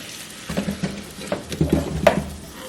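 Potatoes frying in a pan, with a soft sizzle and a series of light scraping and stirring clicks, quiet and close, with no talking.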